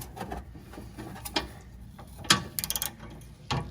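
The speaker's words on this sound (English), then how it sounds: "There, got the wrench on it now. I think I have it loose now." Wrench loosening the nut on a Porsche Boxster 986 transmission mount: a few close metallic clicks and ratcheting taps, including a short quick run of clicks near the middle, with no talking.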